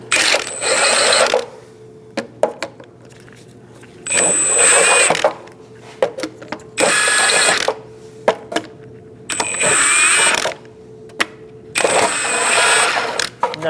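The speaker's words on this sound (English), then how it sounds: "I'm going to remove these plastic lug nuts first using a 19mm." Lug nuts on the front wheel of a 2006-2011 Chevrolet HHR are spun off with a power tool and a 19mm socket: four loud bursts of whirring, each about one to one and a half seconds long, with quieter clicks and handling noise between them.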